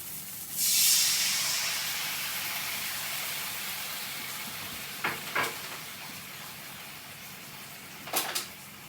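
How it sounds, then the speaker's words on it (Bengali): Tamarind water hits a hot pan of fried tomatoes for a sour puti fish dish, letting out a loud hissing burst that fades into a steady sizzle, with a few sharp utensil clinks later. "এবার আমি তেঁতুলের জলটা দিয়ে দেবো"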